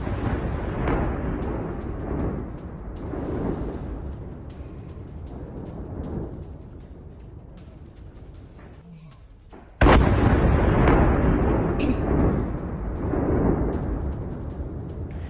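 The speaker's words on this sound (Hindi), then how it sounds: "आईडीएफ की एयर स्ट्राइक में सुरंग तबाह हो चुकी है।" Heavy explosions from an IDF air strike on a Hezbollah missile launching tunnel, a sustained rumbling barrage of blasts with a sharp, louder burst partway through, continuing dense and booming.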